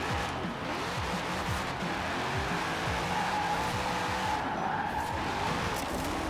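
A Corvette C8 with an eight-speed gearbox drifts in the Forza Horizon racing game, its tires squealing steadily over a droning engine for several seconds, with no talking.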